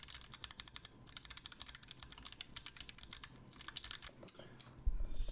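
Steady, quick typing on a Gray Studio Space65 mechanical keyboard, ISO build: dense clicky keystrokes in an uneven rhythm, close and fairly quiet, with a brief louder knock near the end.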